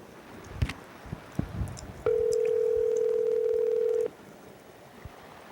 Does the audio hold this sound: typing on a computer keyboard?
no